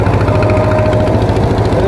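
A fishing trawler's engine runs on a river in rough, wavy water, a loud, close, steady low throbbing drone with a fast mechanical pulse and no voices.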